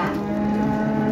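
Cattle at a livestock market, cows with their calves, give one long, loud, close moo that fills the short moment with no talking.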